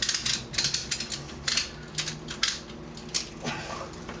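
A clamp worked by hand produces a string of quick mechanical ratcheting clicks in short uneven bursts, close and moderately loud, thinning out toward the end.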